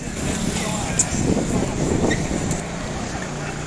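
Busy street traffic with many buses in Xi'an, a steady near engine rumble and passing vehicles, with a brief click or two and people talking faintly over it.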